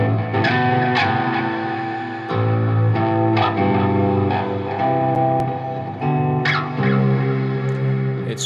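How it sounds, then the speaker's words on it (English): Deep, resonant clean electric guitar chords from a PRS Private Stock seven-string on the neck pickup ring out with warm low end, strummed in phrases with sustained notes and slight ambience. "bellowing, amazing clean tone, yet very clear on the neck. This is just a neck pickup."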